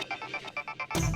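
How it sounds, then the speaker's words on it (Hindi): A phone ringtone chirps in quick repeated electronic pulses, loud and close, then breaks into a sudden noisy burst at the end. "फौजदार का फोन आ गया बाबे"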